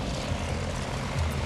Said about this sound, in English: We can wait for the plane to go a bit further along the path.